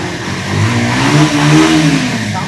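A used Bajaj Pulsar motorcycle engine catches on the self-starter and revs, the loud close exhaust note rising and falling through two swells before settling, with no speech.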